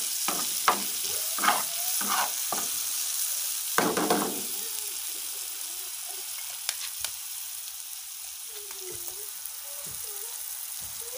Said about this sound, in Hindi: अब इसमें डाल देते हैं हम मिर्चें,